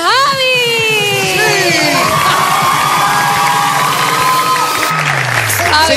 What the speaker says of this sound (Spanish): Un fuerte aplauso para el Javi